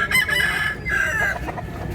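A rooster at a chicken market in Consolacion, Cebu crows once in a drawn-out, wavering call, loud and close, followed by softer clucking against market background noise.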